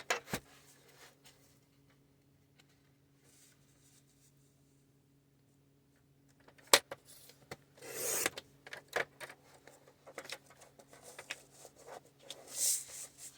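A paper page for a handmade 6 x 6 glue-book journal is cut at a half-inch mark, giving a brief, fairly faint cutting and rustling burst with a few soft taps in an otherwise quiet room.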